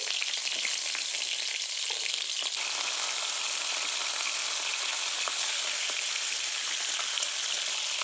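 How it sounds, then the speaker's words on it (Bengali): Crab shells fry in hot oil in a wok, giving a steady, even hiss and crackle that stays close and continuous with no talking. "প্রথমে কাঁকড়ার খোলগুলোকে আগে ভেজে নিচ্ছি"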